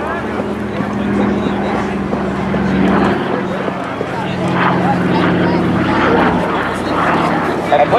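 T-6 Texan warbird aircraft passing at the Jones Beach airshow, a loud propeller-engine drone that swells and stays steady as they fly by, with someone talking over it.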